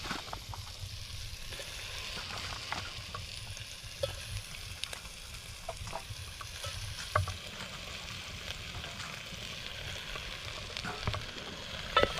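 Chicken feet frying in a pan while being cooked village-style, a steady close sizzle with occasional stirring scrapes and pops throughout.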